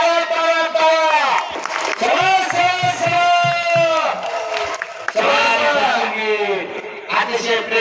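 A packed crowd shouts and cheers loudly and continuously at a traditional kusti wrestling match during the Shri Shambhu Mahadev event in Phursungi, 2025, with many overlapping voices rising and falling throughout.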